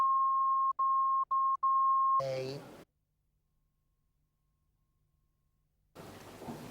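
A telephone emits a steady, clear tone while a call is being placed, broken by a few short gaps. After it stops, someone speaks briefly, then there is a pause and more speech.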